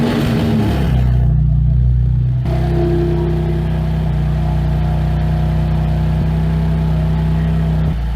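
A 2021 BMW M2 Competition cranks and fires up close by, then settles into a steady idle with a whirring hum that holds strong and even for several seconds.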